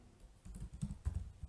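Typing on a computer keyboard while writing code in a Python IDE: a quick, uneven run of soft, close key clicks with small bursts of louder taps, no talking.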